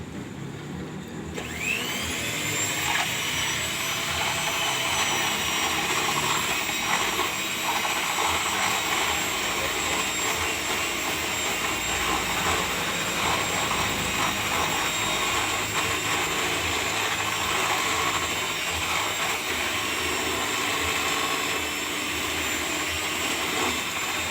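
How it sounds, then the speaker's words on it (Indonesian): An electric hand mixer beats martabak batter with a steady, loud, continuous whirring drone that starts after a brief pause and runs unbroken to the end, with no talk over it. "Baik, kita akan langsung di mix ya, pakai ini mixer."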